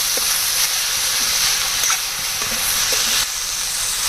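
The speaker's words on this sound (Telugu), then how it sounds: "ఇదిగోండి సాల్ట్ వేసిన తర్వాత ఈ విధంగా కలిపేయాలి" A pan of raw prawn curry with salt added hisses with a steady, fairly loud sizzle, while a spoon stirs it and makes light, repeated scraping taps.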